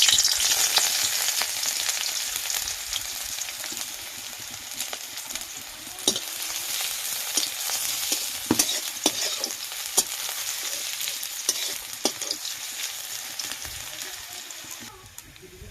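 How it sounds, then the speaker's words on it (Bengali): Onions fry in oil in a kadai with a bright, continuous sizzle, close and clear, punctuated by repeated sharp scrapes and knocks from stirring. "কড়াইতে পেঁয়াজ দিয়ে দেব।"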